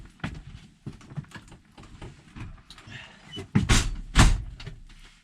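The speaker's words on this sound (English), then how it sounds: "close the door" Camper door pulled shut, the latch thumping near the end after a run of shuffling, rattling handling sounds and footsteps inside the camper.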